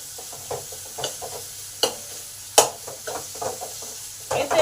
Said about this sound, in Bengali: পাঁচ মিনিট ধরে মশলাগুলোকে ভালো করে কষে নেব, যাতে মশলার কাঁচা গন্ধটা দূর হয়